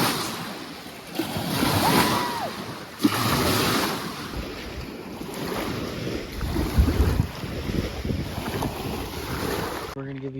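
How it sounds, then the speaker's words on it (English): Strong waves slap and churn around a paddleboard on a lake in the Tetons, heard up close under heavy wind buffeting the microphone, with a couple of louder splashes. "Hopefully you can hear this because these waves are pretty strong"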